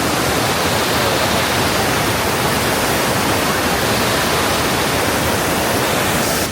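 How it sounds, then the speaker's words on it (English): Waterfalls in a Philippine jungle give off a steady, dense roar of falling water that holds level and unbroken throughout, with no voices over it. "Waterfalls."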